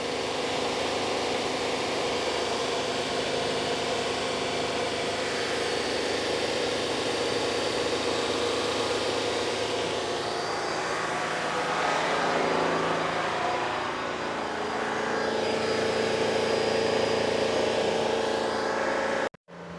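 A vehicle engine idles steadily in neutral for about twenty seconds during a wheel bearing and strut inspection, a continuous mid-to-low hum with mild vibration and no talk, cutting off abruptly at the very end as it is switched off.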